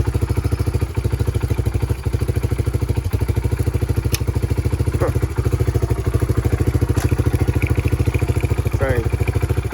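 A Honda 300ex ATV engine runs in gear with a close, loud, steady low-pitched thumping idle and a few faint clicks and clatters over it.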